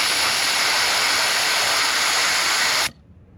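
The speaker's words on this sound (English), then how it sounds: "So right now I'm gonna use the tire deflator to get all these tires down to 25 PSI" Loud, steady hiss of air rushing from a truck tire through a tire deflator with the valve core removed, airing down toward 25 PSI, cutting off abruptly near the end.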